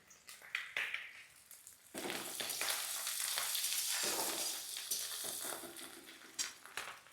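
Coconut pieces tipped into a pan of chana dal and stirred, a soft sizzle of frying rising after a few light utensil scrapes, with steady stirring and clinks continuing underneath.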